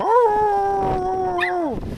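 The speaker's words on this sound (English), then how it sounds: "That's my dog." A dog gives a long, loud, close howl that holds a steady pitch before dropping away, with a brief exclamation from a person near the end.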